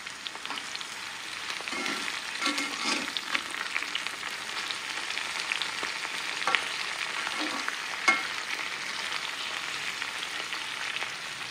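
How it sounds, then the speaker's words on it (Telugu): Chopped ridge gourd pieces fry in a pan for beerakaya pachadi, a steady close sizzle with occasional soft stirring scrapes and a few faint knocks, continuous throughout without speech. "బీరకాయ ముక్కలు కూడా వేసేసుకుని కొంచెం వేగితే చాలండి."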